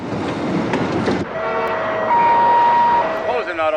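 A New York subway train, Pelham 123 from the 1974 heist film, rolls along loud and close with a steady rumble and drawn-out horn or brake tones, while muffled voices sit underneath.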